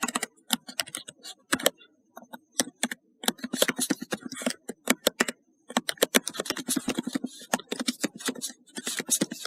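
Close, quick keystrokes on a computer keyboard during a coding session, irregular bursts of clacking taps separated by short pauses, with no talking.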